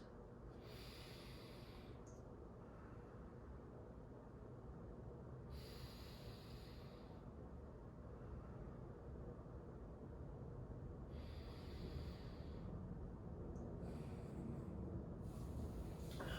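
Quiet, slow deep breaths taken while holding a hamstring stretch; about four long airy inhales and exhales come and go at an even pace over a faint room hum, with no talking.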